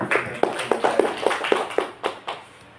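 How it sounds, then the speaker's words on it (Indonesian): Clapping at a school training session on e-Kinerja administration, about ten sharp claps in a steady rhythm, moderately close and fading out near the end. "Tepuk tangan terlebih dahulu."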